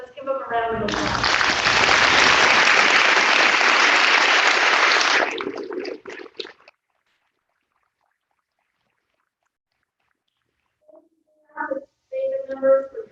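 Audience applause at an honor society induction ceremony, a loud sustained round of clapping lasting about five seconds, then fading out, followed after a silent gap by brief talk.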